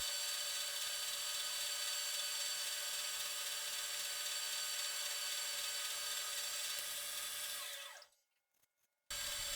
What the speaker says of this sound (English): This is a different 5/8 shank carbide tool, and as you can see, it's working much nicer.